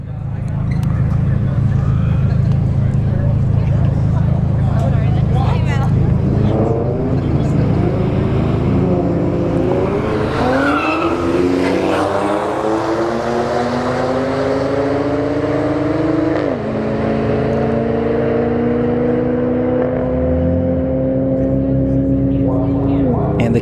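Alfa Romeo Stelvio Quadrifoglio and Infiniti Q50 launching side by side in a drag strip run, engines roaring steadily and climbing in pitch through gear changes, loud and continuous for over twenty seconds with a commentator talking over it.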